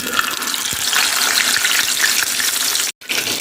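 Fish pieces fry in hot oil on a tawa, Narayana hotel style, producing a loud continuous crackling sizzle with scattered pops and a brief break near the end, and no speech.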